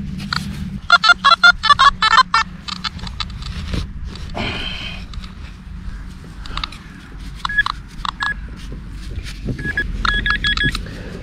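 Metal detector sweeping a sandy field for coins, giving bursts of rapid electronic beeps and warbling tones in clusters over handling noise and low rumble, fairly close and loud.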